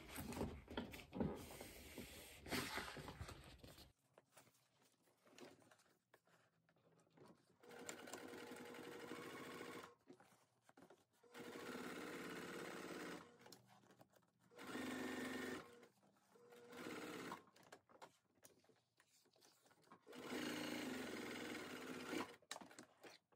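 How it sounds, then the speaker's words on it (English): Sewing machine topstitching the exterior of a fabric backpack, stitching in several sustained bursts of a few seconds each, separated by short pauses, close and moderately loud with no talking. "I am only going to top stitch my"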